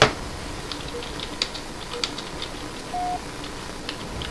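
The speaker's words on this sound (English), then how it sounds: "I'm typing." Keyboard typing during a Halo 3 online multiplayer session, soft scattered key clicks at a moderate distance over faint game background noise, with a brief steady tone partway through.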